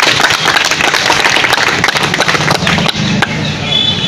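Loud applause from a crowd at a local event for a municipal councillor, dense rapid clapping close to the recorder, thinning toward the end.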